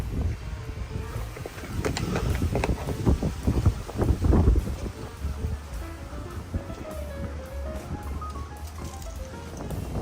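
Wind gusting down a narrow alleyway along the Thames Path East in London, a steady blustery rush with buffeting microphone noise that swells in the middle and eases toward the end.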